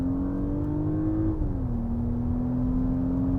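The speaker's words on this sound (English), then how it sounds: "It sounds like a proper muscular and sort of nicely tuned V6 engine." A Porsche Cayenne E-Hybrid Coupe's V6 exhaust drones steadily in second gear, a smooth, refined hum that dips slightly in pitch midway and then holds, heard alone without talk.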